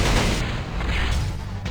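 Cannon drill skill attack in Marvel Future Fight: a dense, loud burst of booming, gunfire-like impacts packed together for under two seconds.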